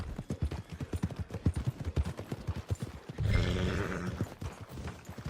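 Steady clip-clop of horse hooves in Red Dead Redemption 2, a rhythmic trotting gait close by, followed by a louder snort or whinny-like rumble near the end.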